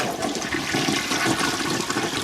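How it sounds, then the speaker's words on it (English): A toilet newly installed by an amateur handyman flushes with a loud, steady rush and gurgle of water that fills the whole moment on its own. "Flush that thing."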